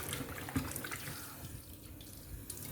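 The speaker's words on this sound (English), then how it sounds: "I'm going to use my lime to wash the meat as well" Water runs from a sink tap as beef shank is washed with lime, a steady, fairly quiet flow with a single small splash early on.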